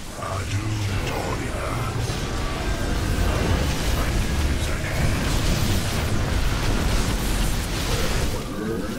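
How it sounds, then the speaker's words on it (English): A Shadow Cannon blast in StarCraft II: Legacy of the Void, a sustained loud boom and rumble that fills the whole stretch with dense low-end roar, mixed with game sound effects. "Shadow cannon!"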